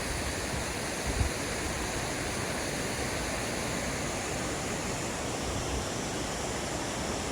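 A roadside waterfall on Stevens Creek at Mount Rainier gives a steady, loud, close rush of falling water, unbroken throughout with no voices.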